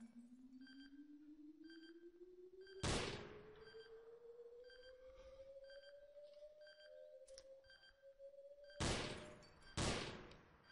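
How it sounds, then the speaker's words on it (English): Gunfire in a Garry's Mod DarkRP multiplayer match: three loud sharp shots, one alone early and two close together near the end, over a rising synthetic whine and faint repeating beeps. "Cover me, I'm hearing gunshots."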